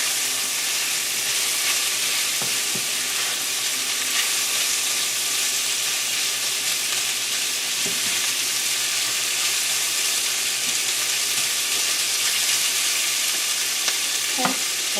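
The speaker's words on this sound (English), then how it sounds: "We'll let that cook a little bit more until the onion gets a little translucent." Sliced Polish kielbasa and onion fry in a hot pan with a dense, steady sizzle that holds loud and even throughout, broken only by a few faint utensil clicks.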